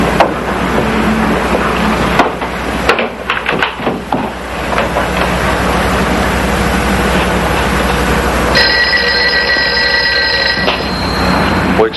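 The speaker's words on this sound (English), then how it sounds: "Excuse me, my phone." An old-style telephone bell rings in a crime drama scene, heard under a loud, busy background of rumbling noise and sound effects that fills the whole stretch, with a steady ringing tone entering near the end.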